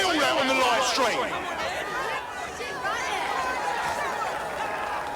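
Crowd in the video game Watch Dogs Legion roaring and cheering at a street fight, a dense, continuous babble of many excited voices that swells early and stays loud throughout.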